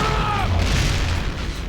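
A grenade explodes in the shooter game Turok: Dinosaur Hunter as one loud, close boom whose rumble fades out over a second or so, with a brief swooping tone at the start.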